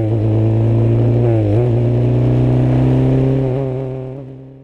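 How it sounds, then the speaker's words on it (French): Formula 3 race car on the Paul Ricard circuit accelerating hard through the gears, a loud steady engine whine climbing in pitch with brief dips at each upshift, heard from the cockpit. "j'essaie de passer toutes les vitesses comme ils nous indiquent"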